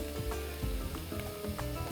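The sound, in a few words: meat frying in a pan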